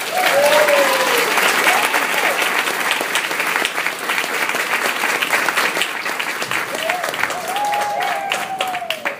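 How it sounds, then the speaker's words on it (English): A convention panel audience for Halloween 4 applauds director Dwight Little, with sustained loud crowd clapping and a few cheers over about nine seconds, and voices rising briefly above the clapping. "And a big round of applause for this guy"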